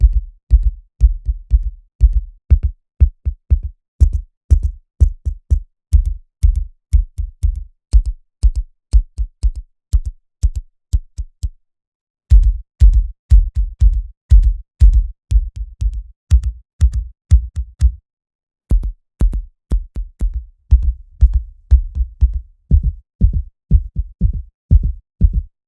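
Bass drum hits from the Fragments Percussions instrument, steady deep thumps in rapid repeating patterns, sometimes in clustered rolls, with two short pauses, no talking.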